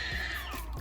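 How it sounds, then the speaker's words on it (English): A baby screams and cries in a crib, a short, loud, high-pitched wail with no talk over it. "No mom wants to hear their baby crying like this"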